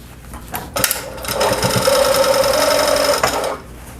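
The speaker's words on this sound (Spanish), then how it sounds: "Entonces voy a empezar a coser acá." A sewing machine stitches the seams of a fabric welding cap, a steady rapid whir lasting about two seconds after a few preliminary clicks, close and alone.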